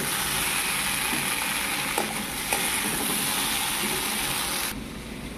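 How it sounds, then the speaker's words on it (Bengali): Eggplant and potato fry in a pan with a loud, continuous sizzling hiss and a few utensil knocks, close by, cutting off abruptly at the end. "তো দেখুন দেখুন এখানে বেগুন আলু ভাজা হচ্ছে"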